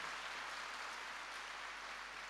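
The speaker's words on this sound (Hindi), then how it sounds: "जोर से ताली बजाकर धन्यवाद दें जोर से ताली बजाएं" A church congregation claps together in a dense, continuous wash of applause, steady and fairly distant, with no distinct individual claps standing out.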